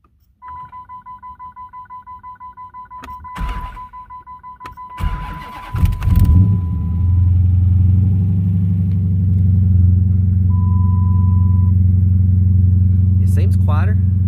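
A Dodge Challenger cold-starts after a steady series of dash chimes: the starter cranks twice before the engine catches with a loud rev, then settles into a deep, steady idle.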